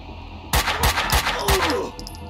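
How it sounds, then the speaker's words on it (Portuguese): Gunfire from the video game Max Payne 2, with four loud, evenly spaced shots cracking in quick succession, then fading echoes and a faint metallic ringing, heard with no talking. "Cara, é muito bom dar tiro nesse jogo."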